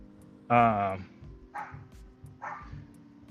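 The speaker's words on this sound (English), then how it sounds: "These aren't my dogs. They're the neighbor dogs." Neighbor's dogs barking: one loud bark followed by two shorter, softer barks, spaced about a second apart.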